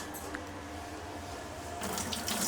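Tap water runs steadily into a kitchen sink while coriander is being washed, a constant close hiss that briefly grows louder and splashier near the end.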